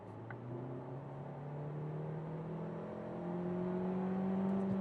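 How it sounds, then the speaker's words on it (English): A Kia Seltos in sport mode accelerates hard on the Autobahn, its engine note climbing steadily in pitch as speed builds, with a continuous drone of road and wind noise heard from inside the cabin. "let's see that we can do a first very quick acceleration, like 70 to 120"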